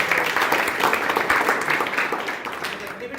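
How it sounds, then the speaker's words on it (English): Students and audience at a school event give a round of applause, a broad continuous wash of clapping that gradually eases off toward the end. "Now you should also give a big round of applause to you."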